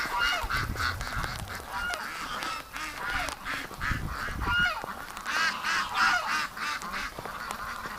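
A flock of ducks runs back into their pen, calling with loud, repeated honking quacks that overlap in busy, uneven bursts close by.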